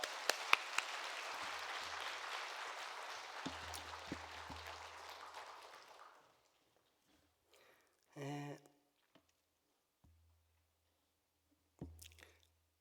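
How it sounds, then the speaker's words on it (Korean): A church congregation at a Wednesday evening worship service applauds to welcome a missionary, a dense wash of clapping that runs steadily for about six seconds before fading into near silence, with a brief faint voice afterward. "우리 박수로 우리 박종필 선교사님 환영하도록 하겠습니다"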